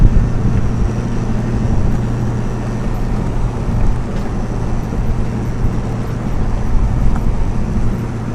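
A Honda Civic with a JDM H22A engine swap and a worn wheel bearing cruises along, giving a loud, steady low droning hum mixed with road and tyre noise throughout.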